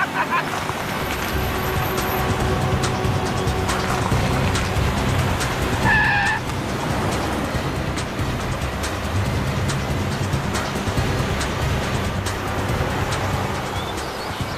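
Car speeding away in a chase through a dusty monsoon setting, a steady loud engine roar with brief tire screech mid-way, continuous throughout.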